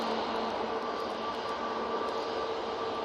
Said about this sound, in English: EasyJet lined up ready to go. This one's off to Antalya